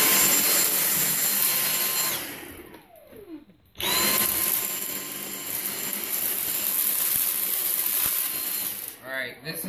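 A Dyson DC59 Motorhead cordless handheld vacuum cleaner runs with a loud, steady, high-pitched motor whine. It cuts out for about a second, then starts again and keeps running.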